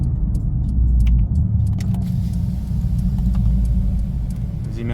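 A car engine rumbles through a Ragazzon four-tip exhaust, a deep, steady drone heard from close by, with light clicks and rattles over it.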